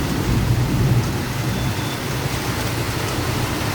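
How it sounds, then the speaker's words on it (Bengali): Heavy rain pours down in a dense, continuous roar of drops striking surfaces, loud and unbroken with no voices. "প্রচুর বৃষ্টি হচ্ছে"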